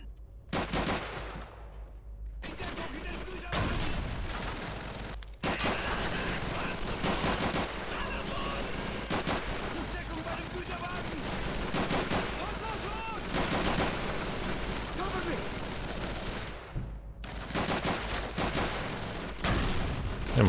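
Machine gun fire in Call of Duty 3 on PS3, with long, dense bursts of automatic shooting and battlefield explosions, loud and close, broken by a few short pauses while a player talks over the action.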